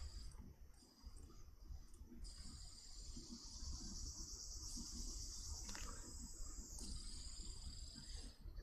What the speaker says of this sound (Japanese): セミは雨でも元気だな。